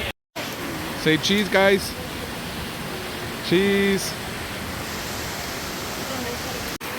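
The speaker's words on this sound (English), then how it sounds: "you see the big big waterfall over there?" A big waterfall at Disney's Animal Kingdom theme park gives a steady, broad rushing roar from a distance, with people talking briefly over it.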